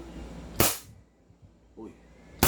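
An upgraded KP19 airsoft pistol fires two sharp, loud single shots about two seconds apart, with a short voice murmur between them.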